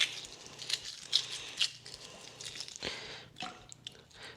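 A cracked boiled egg has its shell slowly peeled off under cold water, giving soft wet squishes, drips and small crackling tears, close and quiet, with no talking.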